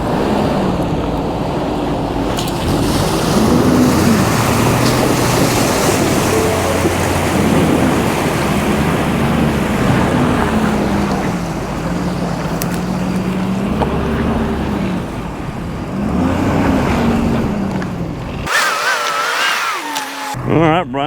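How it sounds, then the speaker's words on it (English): A 2023 Ford F-350 Power Stroke dually pickup wades through a water pit about 16 to 18 inches deep. Water rushes and surges continuously under a steady diesel engine drone, with talk over it before a sharp cut near the end. "now we're going to get into the water pit"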